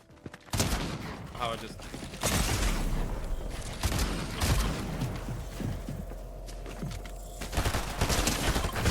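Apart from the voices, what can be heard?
gunfire in the video game Fortnite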